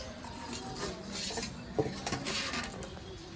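A metal lid lifts off a cooking pot of rice, giving a few faint close clinks and scrapes in a quiet kitchen.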